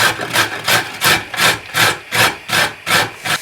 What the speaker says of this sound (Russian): Натираем на крупной терке морковь.